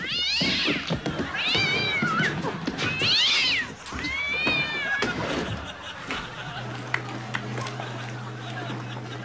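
A cat meows several times in a rising, wavering pattern in a parody laundry detergent advert, loud and close, with a steady low hum coming in near the end.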